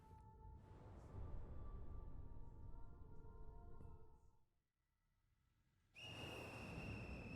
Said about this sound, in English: As the monstrous little raincoat visitor blows his whistle